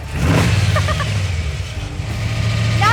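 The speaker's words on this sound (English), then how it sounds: "Not to mention the sound coming off the headman headers. 3-inch pipes and Flowmaster mufflers will let everyone on the road know that you mean business." A C2 Corvette Sting Ray with a ZZ4A high-performance 350, LT4 hydraulic cam, Barry Grant tri-power, Hedman headers, 3-inch pipes and Flowmaster mufflers rumbles loud and close, a deep steady exhaust burble with slight revving.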